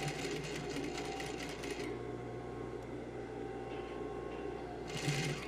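Sewing machine stitching around the neckline of a garment, a fast, steady mechanical whir in short bursts, pausing briefly before running again, close and fairly quiet.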